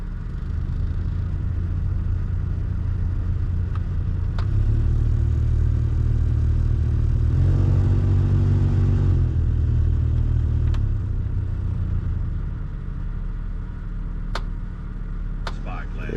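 A 1999 Honda Accord heater blower motor runs on its lowest speed inside the car, a steady low whir and rumble that swells briefly in the middle, with a few small clicks and some talking.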